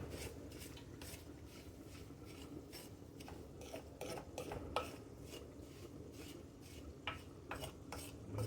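Ground salmon croquette mixture stirred in a bowl, a run of close scraping, clinking utensil strokes against the dish in an uneven rhythm, fairly faint and without talk.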